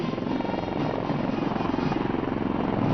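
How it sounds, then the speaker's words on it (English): Loud rhythmic thudding of military helicopter rotors with a rough engine roar at an Army Day parade, steady and close throughout, no voices. "helicopters of 603, 10 Independent Aviation Brigade are approaching the saluting lines"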